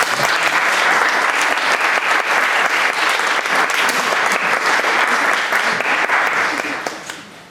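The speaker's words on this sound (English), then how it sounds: "I think they deserve a round of applause." An audience at a panel discussion on liberal internationalism and middle powers applauds the speakers in a dense, steady round of clapping that stays full and loud before thinning out and fading near the end.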